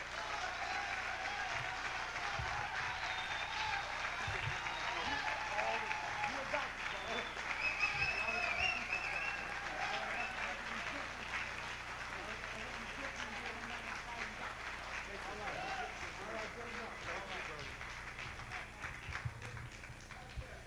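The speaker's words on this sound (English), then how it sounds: "give a warm welcome of applause to Dr. Street Man Dale Jones." An audience gives sustained, dense applause to welcome a speaker, with the clapping continuing for the whole stretch and a voice heard over it at times.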